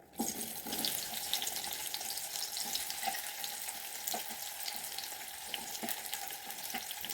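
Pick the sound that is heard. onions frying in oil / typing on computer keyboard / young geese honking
onions frying in oil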